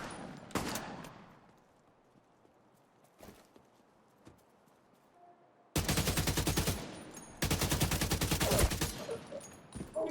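Rapid bursts of automatic gunfire in the video game Division 2, loud and close, with a few scattered shots early on, then two long sustained volleys in the second half.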